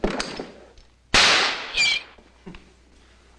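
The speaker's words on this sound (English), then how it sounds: "Oh, it's a nail gun." A nail gun fires in a movie scene, one loud sharp crack followed by a second shorter burst, with quieter thuds and movement around them.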